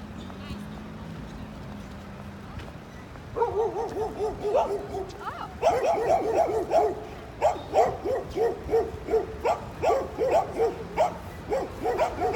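Several street dogs bark in quick, repeated bursts outdoors in Sofia city centre, close by, with some talking in the background beneath the barking.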